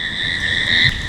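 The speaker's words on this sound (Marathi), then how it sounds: "रातकिड्यांचा आवाज आहे का" A steady, high-pitched trill of crickets chirping at dusk by a riverside near Malvali, Lonavala, rings out continuously, with a faint low rumble underneath.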